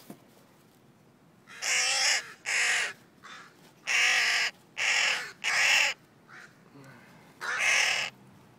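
A crow caws loudly and close by, giving seven harsh calls in a steady series with brief gaps, alone apart from faint background hiss.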